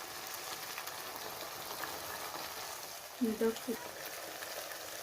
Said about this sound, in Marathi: 1-2 मिनिटं चांगला जर परतला तर हा मसाला छान परतला जातो